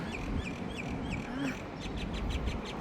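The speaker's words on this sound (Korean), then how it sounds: "아, 새소리 좋다." Birds chirp in quick repeated bursts, a bright rhythmic series close by, with a low voice murmuring underneath.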